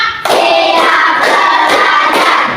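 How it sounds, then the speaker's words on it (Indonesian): A class of standing students claps in unison in a counted rhythm routine, a few loud, evenly spaced bursts of many hands striking together, close and energetic. "Tepuk 1, tepuk 2, tepuk 3, tepuk 4,"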